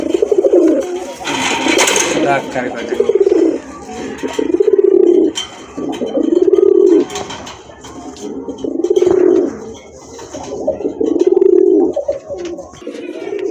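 A male pigeon with orange plumage and feathered feet coos nearby in repeated, throaty rolling phrases, about one every two seconds, loud and close, with brief flutters and clicks between the calls.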